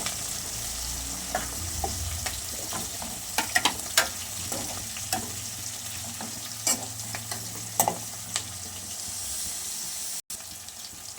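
Chopped tomato fries in a pan for chicken curry, a close, steady sizzle punctuated by clicks and scrapes of stirring, with a brief drop in sound near the end and no speech.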